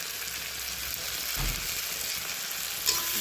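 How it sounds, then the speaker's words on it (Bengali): Onion and tomato, salted, fry in a pan with a constant bright sizzle, a brief swell where they are stirred and a small clink near the end. "আবারও একটু ভালো করে ভেজে নেব।"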